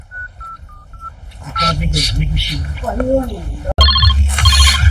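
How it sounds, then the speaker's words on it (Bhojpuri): A phone call is placed: a short run of keypad dialing tones sounds, then a telephone rings loudly with a repeating trill. Voices talk over much of it. "फोन बजता है"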